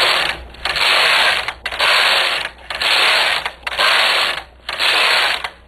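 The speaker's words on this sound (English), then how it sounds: "knit another 6 rows." Knitting machine carriage pushed back and forth across rows, a loud, close, rasping mechanical slide repeated five times with short gaps between the passes.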